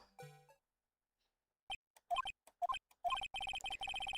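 Ace Attorney video game audio: a brief tone, a pause, then a rapid series of short beeping ringtone-like bursts growing denser toward the end.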